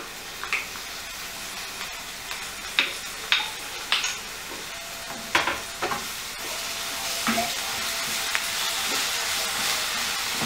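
Ginger garlic paste sizzles with browned onions and spices in hot oil, a steady frying hiss broken by several sharp stirring scrapes and clinks, close and fairly loud with no talking.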